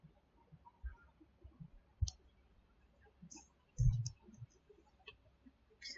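A computer mouse clicking in a quiet room: soft, close, sparse clicks including a double-click, faint against low background hum.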